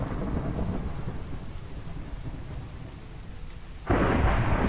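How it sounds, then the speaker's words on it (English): A steady Minecraft thunderstorm with a constant hiss of rain and a low rolling rumble, then a loud burst of thunder near the end. "Thunderstorm? Really?"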